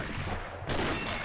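A short burst of rapid M14 rifle fire in the shooter game Combat Arms, crackling loudly for a moment after a quieter lead-in, with no talking over it.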